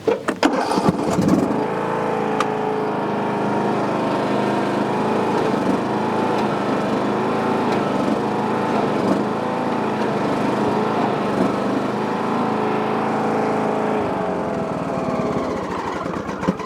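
A lawn mower pulling an Agri-Fab Mow-N-Vac leaf vacuum runs at a steady, loud engine drone after a brief start-up, holding an even pitch nearly to the end with no talking.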